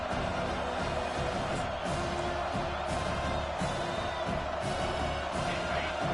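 A home crowd roars and cheers steadily in the NCAA 25 college football video game as the defense faces third down, a dense, continuous stadium wash with faint voices mixed in.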